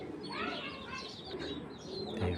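Racing pigeons coo in a loft, soft rolling calls overlapping with a few chirps close by, set against a steady background hum.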